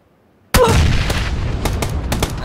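A sudden loud grenade blast in PUBG bursts out of silence, followed by a rumbling tail and a few sharp gunshot cracks.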